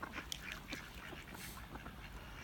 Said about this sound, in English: The ducks come in every time I open up my bait because they think it's food.